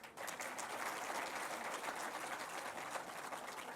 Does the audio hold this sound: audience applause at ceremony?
yes